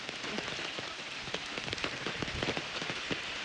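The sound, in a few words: heavy rain falling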